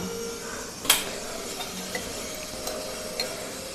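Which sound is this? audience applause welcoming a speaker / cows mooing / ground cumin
ground cumin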